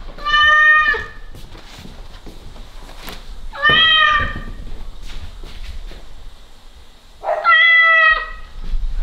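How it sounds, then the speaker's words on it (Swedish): Recorded cat meows played back through a JBL portable speaker, three loud, drawn-out meows spaced a few seconds apart with quiet gaps between them. "Det här är kattljud."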